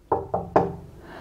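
Three firm knocks on a door, two quick raps followed by a louder third, close and clear with no talking.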